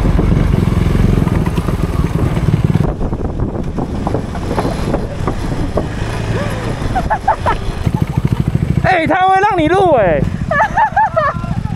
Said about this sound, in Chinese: 骑摩托车在上面我是觉得蛮刺激的啦